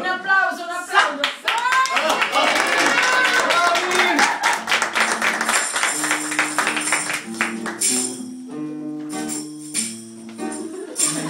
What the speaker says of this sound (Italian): Dai, un applauso, un applauso.